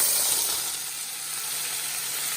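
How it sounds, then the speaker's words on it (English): Celery, carrot and onion go into a hot soup pot for beef barley soup and sizzle with a steady, bright, close hiss that fades slightly and then holds even, with no talking. "it's still sizzling, it is hot, but in goes celery,"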